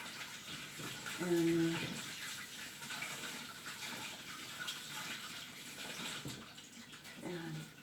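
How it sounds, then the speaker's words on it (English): Tap water runs steadily into a kitchen sink as hands are washed after kneading sourdough bread dough, a soft continuous gush heard fairly close with faint background murmur. "But we're gonna wash our hands."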